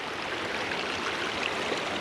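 Storm runoff from a December 2023 Vermont flood rushes through a 12-inch road culvert, a steady, dense broadband roar of flowing water, close and constant with no talk.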